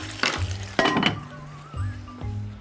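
Shrimp sizzle and crackle in a hot pan for shrimp in coconut sauce, with a few clinks of a utensil stirring against metal; steady frying, close up, no talking.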